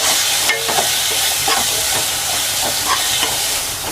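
Tomatoes with chilli, coriander and turmeric powders sauté in a pan for vada curry, a steady loud sizzle broken by repeated scraping stirs.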